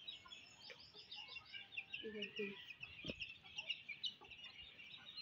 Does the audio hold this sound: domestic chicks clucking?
yes